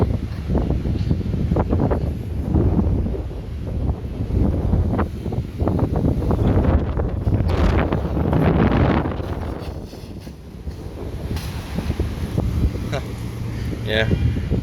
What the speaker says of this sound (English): No idea how strong the wind's blowing.